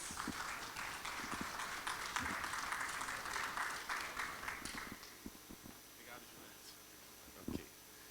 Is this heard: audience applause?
yes